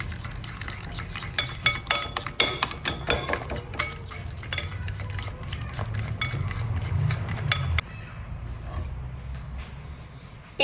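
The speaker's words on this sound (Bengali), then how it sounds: "মিশিয়ে নিচ্ছি।" Powdered milk stirred into a strawberry pudding mixture with a metal utensil, a run of quick scraping clinks and taps against the pot or bowl, close and fairly loud, stopping abruptly near the end.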